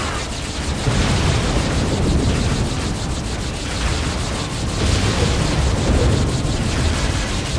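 Heavy bombardment in Halo Wars, a loud continuous roar of overlapping explosions and rumbling blasts that holds steady for several seconds with slight surges.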